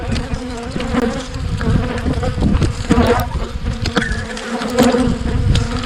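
Honeybees swarm around beehives in a dense, loud, continuous buzz that stays close and never lets up, with the hum of many wings rising and falling under no talk.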